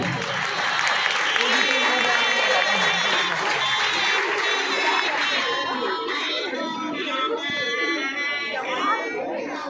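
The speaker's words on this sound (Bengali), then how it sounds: "সবাই জোরে হাততালি হাততালি" Audience applause at a school retirement farewell ceremony, a steady dense wash of clapping mixed with crowd chatter and children's voices, sustained throughout at close range.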